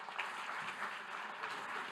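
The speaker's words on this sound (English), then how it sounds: "So a big round of applause, please, for Kevin." A forum audience gives a round of applause to a government digital service director, a steady, fairly distant wash of clapping throughout with no clear pauses.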